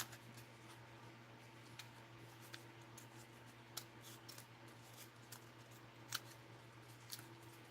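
Scissors snip through paper in a rapid series of small, sharp cuts while shaping a lacy stencil, faint and close over a steady background hum.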